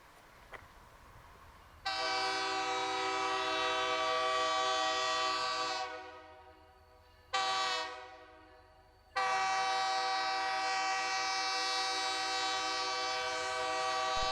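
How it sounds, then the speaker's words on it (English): A Missouri & Northern Arkansas Railroad train rolls slowly along the old Clinton Branch track at the Business Highway 13 grade crossing, sounding its horn loudly: a long blast, a short one, then another long sustained blast over a low rumble. "Our train slowly bounces and bobbles along the old track."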